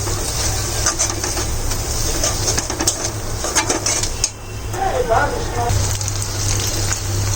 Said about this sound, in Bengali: আমি পেঁয়াজটাকে একটু লাল লাল করে ভেজে নিয়ে এখানে দিয়ে দিলাম সেই তিল বাটাটা